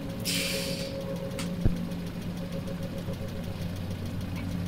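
A car engine idles steadily in the turn-based strategy game Overland, a low, continuous mechanical hum with a faint knocking texture, holding at an even level throughout with one brief sharp click partway through.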